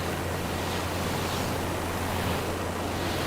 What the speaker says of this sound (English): Oh, it's just windy down here.